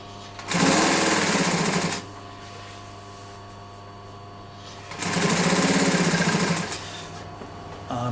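A sewing machine stitching chair seat upholstery runs in two steady bursts of about one and a half seconds each, close and loud, with a low hum continuing between them.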